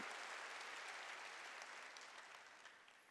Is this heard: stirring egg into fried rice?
no